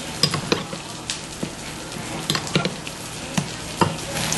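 An oyster sauce dip for tofu being mixed in a small dish, heard as scattered light clinks and stirring taps of a utensil against the dish over a soft background hiss.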